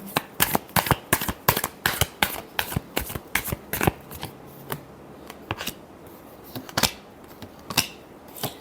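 A deck of tarot cards is shuffled by hand at close range, making a quick run of sharp riffling snaps that slows into sparser single flicks, heard alone with no voices.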